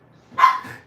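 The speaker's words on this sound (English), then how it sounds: "Pardon the dog." A small dog lets out a single sharp bark close by, with a short trailing yelp after it, in a grooming setting.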